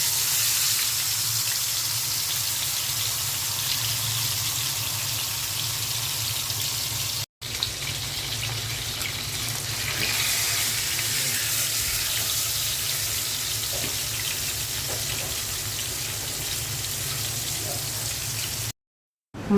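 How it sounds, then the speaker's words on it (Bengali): Fish fries in hot oil in a frying pan, a continuous dense hiss and sputter that stays steady and close throughout, with a brief cut partway through. "এখন আমি মাছটা ভেজে নেব।"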